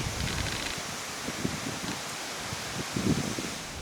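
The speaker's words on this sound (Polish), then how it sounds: "Wicher wieje, kwiaty się układają pod kątem wiatru." Strong wind gusts through garden flowers and hosta leaves, a continuous broadband rush with leafy rustling that surges briefly, close and steady, with no voices.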